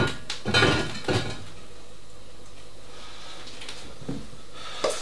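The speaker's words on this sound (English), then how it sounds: "Just put this milk and these bowls away" Kitchen bowls being put away: a cluster of clattering ceramic knocks and clinks near the start, then quiet with a couple of isolated soft bumps and a final clink, close and with no talking.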